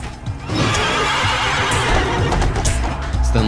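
Horse neighing in the video game Devil May Cry 3, a loud whinny with hoof clatter running continuously and close throughout, with no talk over it.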